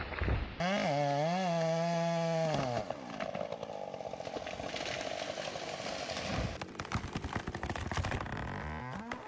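A freshly rebuilt 090 AV chainsaw revs up with a rising, wavering engine note, then bites into hardwood with a sustained, gritty cutting roar. The sound is recorded at modest volume and ends in a few choppy bursts.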